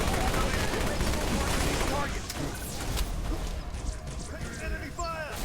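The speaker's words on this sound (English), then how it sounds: "Enemy fire" Enemy gunfire in the Halo Reach Mythic Overhaul game, a dense stream of rapid automatic shots and impacts that is loud for the first two seconds, then thins into scattered bursts with electronic whines, with a voice calling out amid the shooting.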